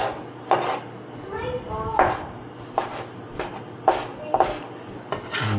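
A knife rough-chopping vegetables on a cutting board for turkey tacos with guacamole and salsa, a series of sharp, close thuds in uneven rhythm with brief pauses between them.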